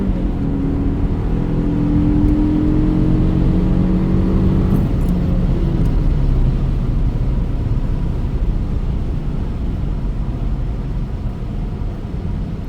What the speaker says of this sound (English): that's what it sounds like when you're accelerating hard, and it does it smoothly